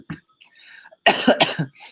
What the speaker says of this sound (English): That's the thing about these coughs.